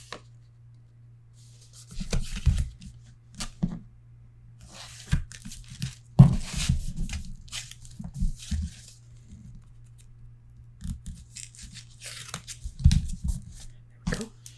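Paper being trimmed for a Stamperia Garden of Promises mini album, heard as quiet, intermittent cutting and crinkling snips close by over a faint steady hum, with pauses between bursts.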